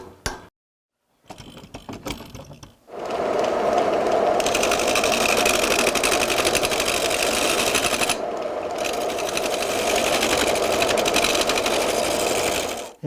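An old forge drilling machine bores a wooden cart wheel hub, starting with a few clanks and then settling into a loud, continuous geared grinding whir that holds steady to the end, with no voices.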